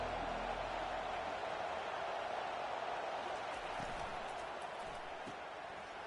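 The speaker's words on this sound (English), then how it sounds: "This crowd bringing an ear-splitting welcome to their visitors." A college football stadium crowd cheers in a continuous, loud roar that fills the whole stretch, steady and broad with no breaks.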